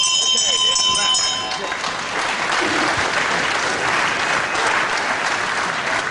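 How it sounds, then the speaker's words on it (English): A ringing bell sounds at the end of a round in a televised wrestling match, clear at first, then fading into loud sustained crowd applause with a commentator talking over it. "And on the bell of round 4."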